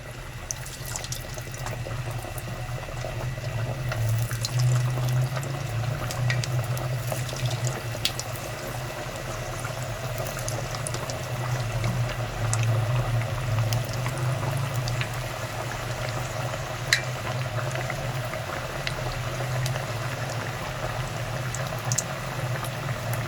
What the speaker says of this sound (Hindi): अब हम एक एक करके टिक्कियाँ डालेंगे